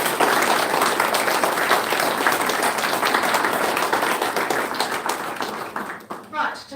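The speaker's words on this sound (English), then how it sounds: "a round of applause for all those people out there that make our sport happen" A banquet crowd at a football awards night gives sustained applause, a thick wash of many clapping hands that stays loud and even before tapering off at the end, when a voice begins to emerge.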